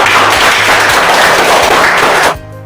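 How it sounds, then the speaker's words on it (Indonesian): Classroom of students clapping hands together with their teacher, loud close applause-like clapping that continues steadily then cuts off abruptly near the end, leaving a low hum. "tepuk tangan denganku."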